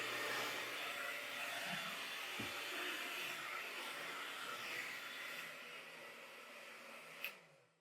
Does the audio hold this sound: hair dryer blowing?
yes